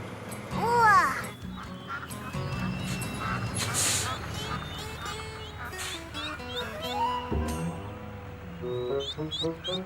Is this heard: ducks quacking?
yes